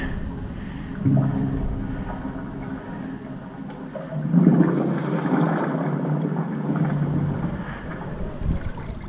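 Water from a flushed toilet rushes through an underground sewer line near an outdoor cleanout. A muffled gurgling whoosh swells partway through and keeps flowing under light wind noise.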